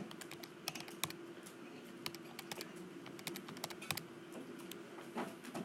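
Soft, quick key presses as a 2 by 3 matrix is entered on a calculator, an irregular patter of light clicks, close and quiet, with no talking.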